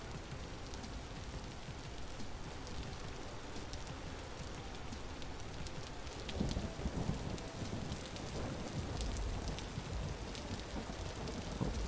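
Video game rainfall hisses and patters in a constant wash, quiet and even, growing slightly denser and heavier in its second half.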